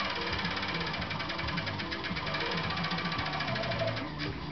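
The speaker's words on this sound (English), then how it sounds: "this is the King Tex CT9000 series cover stitch machine" King Tex CT9000 coverstitch sewing machine running continuously, producing a fast, steady mechanical chatter with even rapid stitching pulses throughout, close and constant, without speech.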